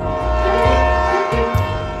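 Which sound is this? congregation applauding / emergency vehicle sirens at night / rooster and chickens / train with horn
train with horn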